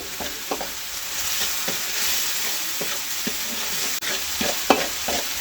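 A utensil stirs fried spice paste for beef curry in a pan, with steady sizzling and frying and a series of soft scraping strokes close by.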